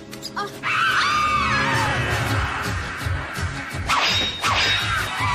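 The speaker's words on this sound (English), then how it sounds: "that one scream really seemed to take a lot out of me" A cartoon creature's high, wavering scream from the 1981 Felix the Cat, loud and drawn out with sharp whooshes and crashing hits around it, then a second shorter shriek near the end.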